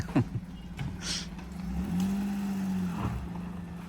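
A Maruti Alto car moving off nearby, with a low engine hum that rises and holds as it drives away, plus a few short knocks and rustles close by.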